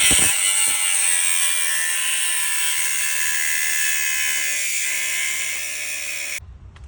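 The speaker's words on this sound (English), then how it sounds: "So this is a couple minutes after cutting it with my grinder" Cordless angle grinder blade cutting through a metal axle hub part on a 2013 Jeep Cherokee, a loud continuous high-pitched whine with gritty rasp that holds steady for about six seconds, then cuts off abruptly.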